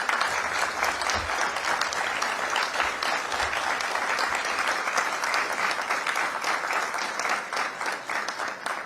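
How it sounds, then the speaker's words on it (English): Audience at an executive centre inauguration applauding, dense sustained clapping from a large crowd that holds steady throughout and eases slightly near the end. "you all applauded"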